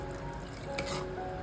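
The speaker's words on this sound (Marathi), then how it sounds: "एक्स्ट्रा थोडंसं पाणी ॲड करायचं याच्यामध्ये" Water is poured into manchurian gravy thickened with cornflour, making a brief, soft splash and trickle against a low background hiss.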